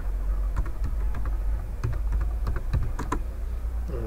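Someone types on a computer keyboard, with light, uneven clicks in quick bursts and pauses over a steady low background hum, close and clear.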